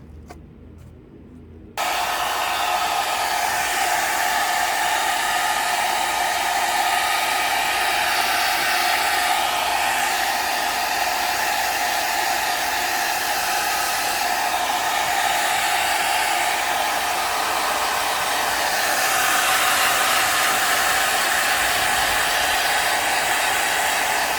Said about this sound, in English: I blow dried it as much as I could